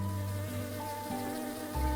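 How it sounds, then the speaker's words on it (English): A bee's buzzing drone in a children's story, a steady close insect hum with shifting pitch that changes and drops as it flies off, heard alone without talk. "The angry bee flew away"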